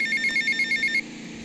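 An electronic phone ringtone in GTA Vice City chirps in a rapid repeating trill for about a second, then stops, leaving a steady background hum.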